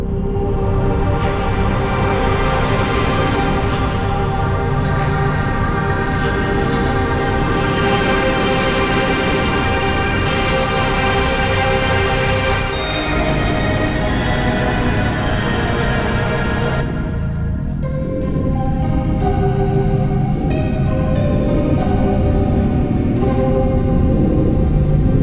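A Yamaha MODX+ synthesizer plays its abstract factory preset Ice Walkers, a dense, sustained layered texture with bright shimmering upper tones that drops away near the end, leaving a darker, softer tail.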